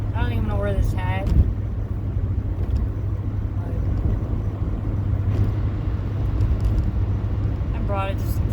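Steady low engine rumble and road noise inside a car on an early morning drive, continuous and moderately loud with no clear gear changes, while someone talks over it.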